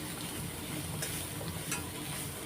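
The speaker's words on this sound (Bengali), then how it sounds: "এই নুন হলুদ দিয়ে আগে ভেজে নেবো একটু তা ভেজে নিচ্ছি" Soybean chunks fry in a pan with salt and turmeric, giving a close, steady hiss and crackle of sizzling oil that continues unbroken, with no voices.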